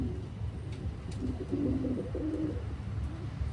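Soft, low cooing from a male pigeon in a loft, a short series of murmuring coos close by against faint background noise.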